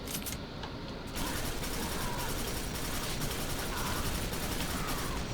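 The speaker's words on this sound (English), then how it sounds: "I don't think the machine gun has a very good weapon feel, honestly" Sustained machine gun fire in the video game Quake 4, a dense, unbroken rattle of rapid shots that stays loud and close for several seconds.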